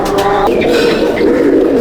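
A pigeon of a distinct bloodline coos inside a loft, a close, steady throaty call running alone for a couple of seconds.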